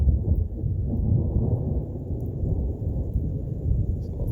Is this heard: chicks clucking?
no